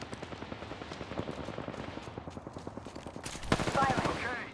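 Rapid automatic gunfire in the Apex Legends battle royale game, a steady rattling stream of shots with a louder, sharper burst near the end, while voices murmur faintly underneath.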